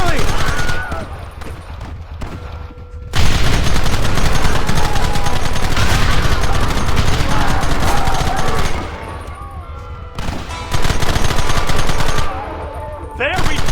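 Loud, sustained gunfire from the Western video game Red Dead Redemption, with dense rapid volleys of shots and crackling bursts that pause briefly and then resume. Short shouted voices break through in places.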